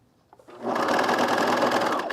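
A sewing machine runs a seam on fleece for a men's pullover, starting with a couple of light clicks and then humming into a brief, steady, close burst of stitching.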